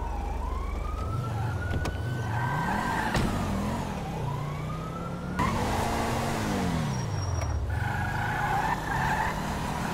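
A car in GTA 5 driving and revving hard, the engine pitch climbing and dropping across several gear changes, with a wailing police siren sweeping over it throughout.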